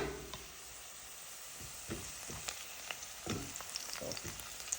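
Onions frying in a pan while being caramelized for corned beef, a steady low sizzle with occasional stirring scrapes and soft clicks, faint and close, with no talking.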